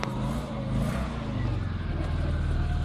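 A Lada Samara car's engine runs close by, a continuous low rumble with slight surges in revs, steady and fairly loud throughout, and no speech.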